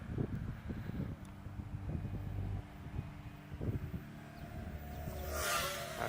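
Gusty outdoor wind buffets the microphone in uneven low rumbles and bursts, with a faint whine from a small radar-timed toy drone rising near the end.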